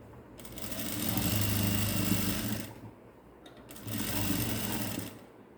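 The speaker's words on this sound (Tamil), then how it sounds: "நல்லா அழகாக அப்படியே ஸ்டிச் பண்ணி எடுத்துட்டு வாங்க" A sewing machine stitches along the back edge of a blouse in two loud, steady runs with a short pause between them, close up and with no talking.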